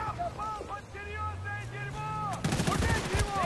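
Gunshots in Bad Company 2 multiplayer, a few sharp cracks arriving abruptly after a stretch of engine and ambient battlefield noise, loud and close.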